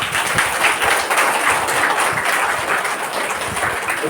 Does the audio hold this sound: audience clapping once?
yes